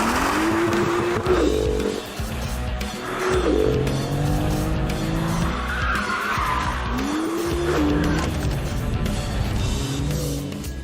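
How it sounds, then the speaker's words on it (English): A BMW M2 lapping a test track, engine roaring at full load with repeated tire squeals and skids through the corners, loud and continuous throughout. "The BMW M2."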